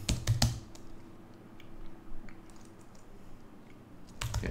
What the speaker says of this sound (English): let's try typing a bit slower